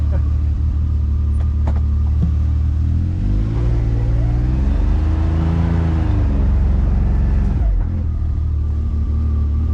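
A vehicle engine rumbles close and loud at low revs, with a rising then falling growl in the middle as it strains on a tight hill trail, then settles back to idle-like rumble.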